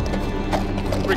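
A horse's hooves clip-clop in a quick rhythmic patter within a fantasy game scene, with a voice speaking over the steady clopping and a faint whinny-like tone.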